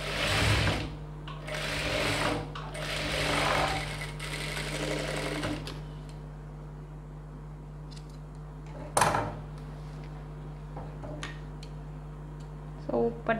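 A sewing machine stitches a boat neck blouse in short, rapid whirring bursts, loud and close, then pauses to scattered ticks and clicks with one brief burst later.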